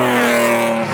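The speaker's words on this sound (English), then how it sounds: "Just got one of the safety cars coming through." A WRC rally safety closing car, the 00 car, roars past on a closed stage, with a loud, steady engine note and harmonic drone that hold for about a second at close range.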